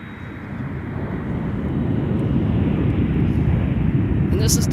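A Delta airliner arriving at MSP airport on a flight from Kansas City roars as its engines swell in a loud, broad rumble, building over the first second and holding steady and near, with faint wind buffeting.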